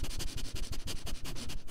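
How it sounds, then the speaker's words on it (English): Rapid, repeated close-up sniffing, a steady run of short sharp inhales with no talking. "I just hear sniffing"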